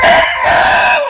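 A rooster crows loudly and close up in one long, sustained call that holds steady and then fades out, heard alone at a farm raising upgraded heritage chickens.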